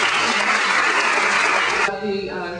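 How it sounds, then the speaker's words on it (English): Audience applause at a brunch honoring legends, loud and dense clapping from a full room that thins out toward the end. "Can we give another round of applause?"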